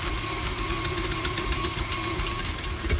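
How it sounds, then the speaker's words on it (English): A KitchenAid stand mixer runs at medium speed kneading bread dough, giving a steady mechanical motor hum with a faint rhythmic knocking throughout, close and continuous with no talking. "The KitchenAid has been kneading for another 7 minutes"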